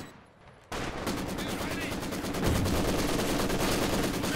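Machine gun fire from a Maxim and other guns in a Company of Heroes 2 battle, with sustained rapid bursts that begin abruptly after a quiet moment and continue loud and dense to the end.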